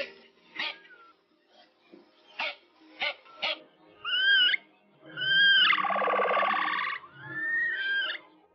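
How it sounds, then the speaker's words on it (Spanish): Capybara calls: scattered short clicks, then rising squeaky whistles and a louder, longer buzzing purr, given close by in quiet surroundings as a series of separate outbursts. "son capaces de producir una serie de vocalizaciones, como chasquidos, ronroneos y ladridos de alarma"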